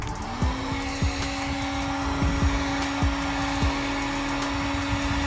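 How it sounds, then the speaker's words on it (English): A heat gun heating a Corvette C3 radiator fan shroud, with a steady loud blowing whine that starts up and holds, while a series of sharp knocks and clicks sound over it. "So anyways, let's start heating her up."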